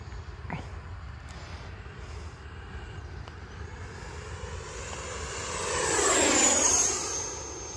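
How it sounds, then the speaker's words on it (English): An E-flite F-18 Blue Angels radio-controlled jet sweeps past at an outdoor flying field, its ducted-fan whine building from a steady background hum into a loud, pitch-shifting whoosh that peaks and fades away. "It is just super impressive. Is that sound that it makes when it comes by."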